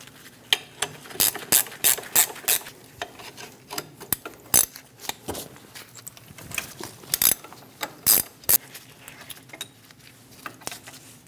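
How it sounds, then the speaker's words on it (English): An 18mm wrench ratchets in quick bursts of clicking while loosening the brake caliper bolts on a 2001-2006 Chevrolet Silverado 2500 HD, the clicks close and loud with short pauses between runs. "Using an 18mm wrench, remove the 2 bolts for the caliper."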